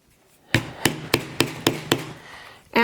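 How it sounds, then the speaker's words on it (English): A hammer drives a hole punch through leather with six sharp, evenly spaced strikes, close and fairly loud, with nothing else in the background. "I'm gonna actually punch a hole just on the inside of my stitch here"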